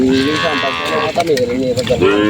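Brahman cattle on a ranch in Tiaong, Quezon, calling with loud, close, drawn-out lowing moos, one call fading and another starting near the end, with people talking nearby.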